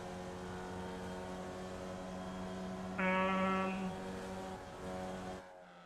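A Formula Vee race car in iRacing at Snetterton holds a steady, buzzing engine drone with strong harmonics, rising briefly in pitch and loudness as the revs climb, then dropping away abruptly at the end.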